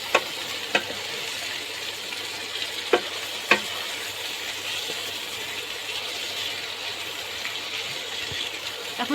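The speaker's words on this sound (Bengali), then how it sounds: "পেঁয়াজ আদা রসুনটাকে আমি হালকা করে ভেজে নেব।" Onion, ginger and garlic fry in a pan with a steady broadband sizzle throughout, punctuated by a few sharp clicks of a spatula scraping or stirring; close and continuous, no voices.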